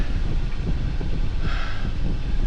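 Steady wind blows across a sailboat's open deck, a broad continuous rush with no letup and a brief brighter swell of gusting midway, with no voices.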